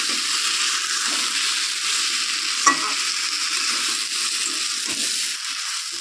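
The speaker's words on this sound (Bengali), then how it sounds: "শাকটা আমি কচুর সাথে দিয়েই কষাচ্ছি" Taro and taro greens being sautéed in a pan for a hilsa fish head dish give a close, loud frying hiss, with scraping stirring throughout and one sharp knock midway.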